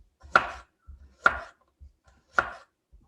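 A knife cuts through radish on a cutting board in three crisp, evenly spaced chops, each with a short follow-through, with faint board taps in between and no talking.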